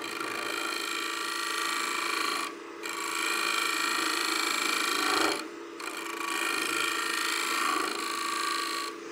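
A hand-held shear scraper cuts across spinning wood on a lathe while a succulent planter is shaped, giving a steady close rasping drone with two short pauses where the tool lifts away.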